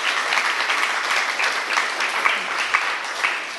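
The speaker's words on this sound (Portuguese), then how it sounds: "Aplauso para Isan e Shakira" Steady applause from an audience at a gathering honouring Isan and Shakira, dense clapping continuing evenly throughout with a few louder individual claps standing out.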